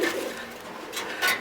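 Fancy pigeons cooing at a breeding farm: a couple of soft, throaty coos close by, with a brief murmur of birds in between.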